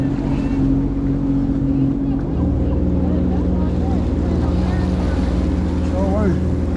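A jet ski runs at speed over open water on the way to Catalina, its engine droning steadily and loudly, with wind buffeting the microphone and faint voices underneath.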